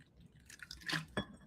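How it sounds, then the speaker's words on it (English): White vinegar pours into a glass jam jar in a short, quiet burst of liquid splashing and dripping, with a couple of soft glassy clinks at the end and no voices. "We're going to use a 1/4 cup of just white vinegar."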